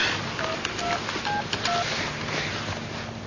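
A telephone dials a call: a quick run of single DTMF keypad tones, short evenly spaced beeps over a muffled indoor background hiss.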